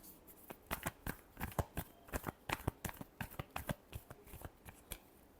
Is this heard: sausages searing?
no